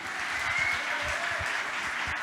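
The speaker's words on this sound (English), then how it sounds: "Give Sherry a round of applause right there" Brief, fairly soft applause from a gala audience at a charity fundraiser, a continuous wash of clapping over low rumble that holds steady for a couple of seconds.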